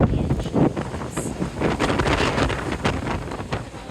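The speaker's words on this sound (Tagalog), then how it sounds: "Ang hangin." Strong wind buffets the microphone with continuous rumbling gusts, rough and loud throughout, with no voices heard.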